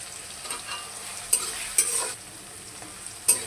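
Onion, green chillies and cardamom fry in hot oil for a chicken curry, a steady close sizzle broken by several soft scraping stir strokes.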